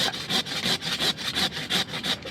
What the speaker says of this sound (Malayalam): ആ സൈഡിലേക്ക് പോയ രണ്ട് ബ്രാഞ്ച് ഉണ്ട് അതിനെ കട്ട് ചെയ്തെടുക്കാം